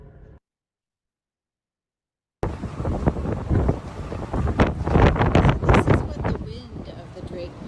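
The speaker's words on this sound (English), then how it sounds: "it was super windy on deck when we were going through the Drake Passage" Strong wind on a ship's deck in the Drake Passage buffets the microphone in loud, gusty roars after a brief silence, with rushing air and faint sea noise underneath.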